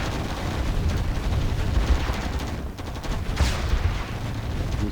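Continuous rattling gunfire from a Stinger site in the real-time strategy game Command & Conquer Generals, dense overlapping shots and blasts forming a loud unbroken battle din with no speech.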